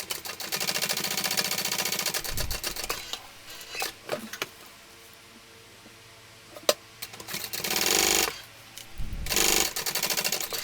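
Sewing machine top stitching along the edge of a shoulder bag: close, rapid rhythmic needle clatter in bursts of a few seconds separated by quieter pauses with small clicks and handling noises.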